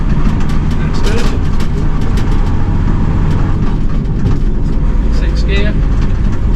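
The diesel engine of an Army Unimog U1700 truck runs loud and close as it works through the gears, a dense continuous rumble with people talking over it.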